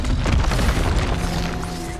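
An Expulso spell explosion in the game Hogwarts Legacy, a deep loud boom that rumbles and fades into a low tonal hum, with no talk.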